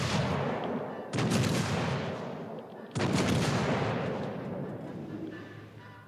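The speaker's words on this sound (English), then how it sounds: "Let's just do a bit of a blind fire." Naval guns fire blind in World of Warships: Legends, two heavy booming salvos a couple of seconds apart, each a sharp loud blast trailing off into a long rumbling roar.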